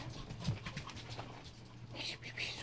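Pomeranian puppies pant and give soft whimpers close by in a playpen, faint and intermittent, with a bird chirping in the background.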